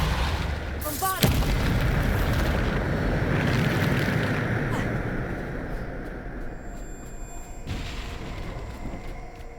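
Bombarda spell blasts in Hogwarts Legacy: a sharp booming burst near the start, then a dense rumbling wash of magical combat and debris that slowly fades, with another brief hit late on.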